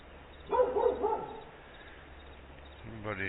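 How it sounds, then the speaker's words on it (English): A dog barks a few times somewhere off across farm fields, muffled and distant, with low ambient rumble between the barks. "Somebody's dog over there barking."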